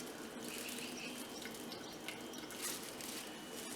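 A hand-dyed shirt is dipped into a container of water during a reverse-dye session, giving steady close splashing, dripping and trickling with no speech over it.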